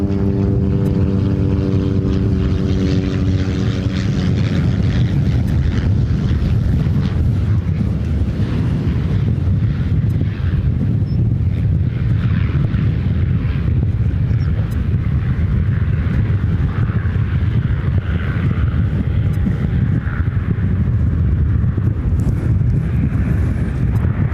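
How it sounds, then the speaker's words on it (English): A Beech 99A twin-propeller airliner at Ontario airport in California, a loud, constant droning roar of propellers and engines that stays close for the whole stretch, with a throbbing tone at the start and no talk. "It's a Beech 99A airliner"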